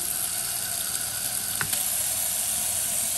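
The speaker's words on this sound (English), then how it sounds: "it's got this boosted spray button" A Moen 7864SRS kitchen faucet runs its boosted spray, giving a steady, loud hissing rush of water close by that holds unbroken throughout.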